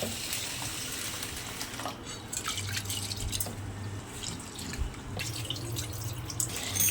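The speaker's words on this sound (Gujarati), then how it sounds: "હવે આપણે આને પાણીથી ધોઈ લઈએ।" Rice and chana dal being rinsed with water in a bowl for dhokla batter, giving a steady close wet sloshing with dripping and trickling water throughout, no voices.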